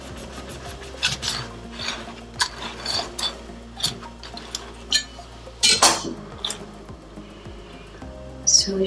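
An avocado being cut with a knife for fresh homemade chutney, heard as close, irregular scraping and rubbing strokes with occasional light clinks, quiet and intermittent.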